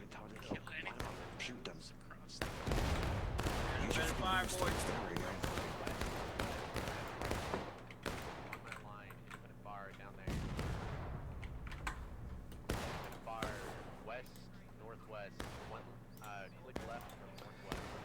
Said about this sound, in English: Are they going to do a shootout? They are.